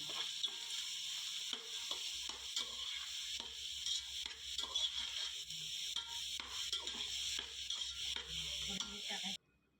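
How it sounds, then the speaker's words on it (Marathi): Chopped onions for chicken biryani sauté in hot oil with a steady sizzle, stirred and scraped now and then through the pan; close, continuous and fairly loud, cutting off abruptly at the very end. "आता हे छान आपल्या तेलावर परतून घेऊया आपण"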